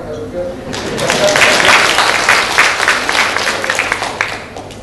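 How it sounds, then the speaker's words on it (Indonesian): An audience at a Mother's Day celebration in Mataram breaks into loud, sustained applause that swells quickly and continues evenly to the end, with a voice briefly heard at the start. "Kurang tadi tepuk tangannya"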